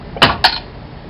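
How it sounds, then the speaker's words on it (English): A 22-ounce bottle of homebrewed German Oktoberfest lager being opened, two sharp close clicks of the cap in quick succession with a brief hiss after, alone in a quiet room. "I'm going to pop one open."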